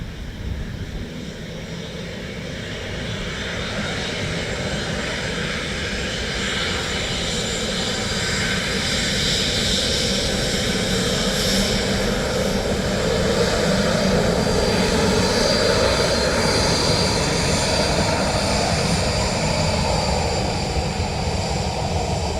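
A large airliner at Dublin Airport, heard very close, gives a loud, steady engine roar that builds slightly and holds for the whole stretch, with no talk over it.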